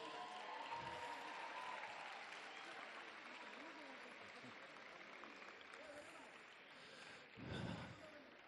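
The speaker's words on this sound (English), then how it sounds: "Just step forward and receive applause." Applause rises for Miss World contestants at a sports finals ceremony, a broad steady crowd clapping texture throughout, with a louder swell near the end.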